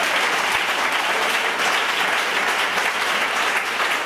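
A church congregation claps together in loud, dense, continuous applause that fills the room at an even level throughout.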